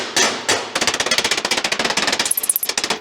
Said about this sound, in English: I gotta get a pair of safety glasses before I do any more of that hammering